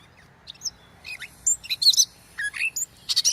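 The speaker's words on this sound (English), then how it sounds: "Merlin is definitely a really cool app to record the sounds of the birds." Recorded bird call played back through the Merlin bird identification app, a series of quick, high, bright chirps and tweets in irregular bursts, close and fairly loud against a quiet background.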